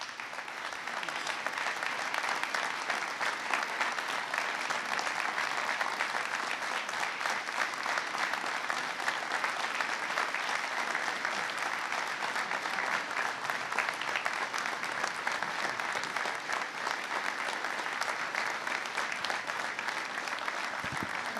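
Sustained applause from a large audience at a presidential speech on the opioid crisis in New Hampshire, dense steady clapping that fills the whole stretch at an even loudness.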